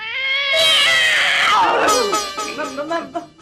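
A human voice imitates a cat's long, drawn-out meow in a comedy scene: one loud wailing yowl that rises, wavers and slowly trails off over about three seconds.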